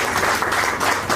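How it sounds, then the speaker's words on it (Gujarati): An audience applauds at a Gujarati poetry book launch ceremony, giving dense, steady clapping that fills the whole short moment without talk. "આપણે સૌ તાળીઓથી ગુજરાતથી વધાવીશું"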